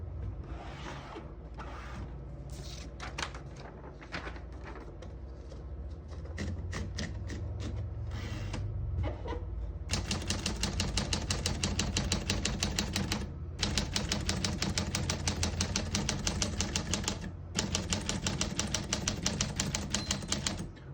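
Rapid, irregular clacking of keys on a 1949 Smith-Corona Sterling portable typewriter, sparse at first and then denser and louder, with short pauses between bursts and mechanical clunks.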